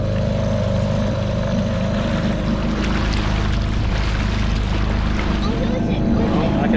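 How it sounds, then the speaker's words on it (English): Outboard boat engine running steadily on a shallow creek off Lake Macquarie, NSW, a continuous close, loud motor drone throughout. "Okay, turn the engine down, Pulbah."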